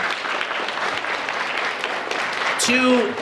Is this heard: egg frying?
no